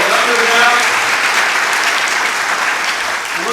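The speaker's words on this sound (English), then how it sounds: "And let's also give Casey a big round of applause." A town hall audience in McMinnville, Oregon breaks into loud, dense applause that fills the room, holding steady and then tapering slightly at the end.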